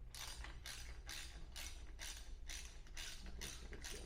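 Split clamp screws on a UR20 robot arm being tightened with a torque tool give a regular series of ratcheting clicks, about eight evenly spaced bursts, close and fairly quiet over a low steady hum.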